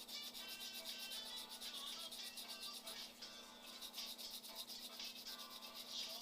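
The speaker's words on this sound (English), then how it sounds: "I'll go through and sand all this" Hand sanding of soft body filler on a pro-touring Nova car body, a steady continuous scraping rub with repeated back-and-forth strokes, close and fairly loud throughout.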